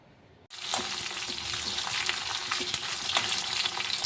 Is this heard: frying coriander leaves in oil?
yes